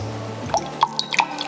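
Mango nectar poured into a saucepan for simple syrup, giving a few short drips and splashes of liquid, close and fairly quiet, with brief pauses between them.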